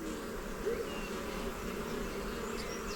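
Honey bees hum in a dense, steady buzz around an open brood box as a hive is inspected, close and continuous.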